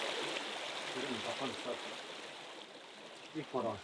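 A rushing stream roars steadily nearby, broad and constant, with faint bird calls breaking through above the water noise toward the end.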